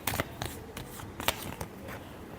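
Tarot cards being shuffled by hand in a few quick riffling bursts with short pauses between them, close and fairly quiet, with no voices.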